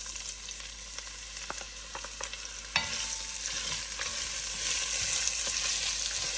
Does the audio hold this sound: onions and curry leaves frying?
yes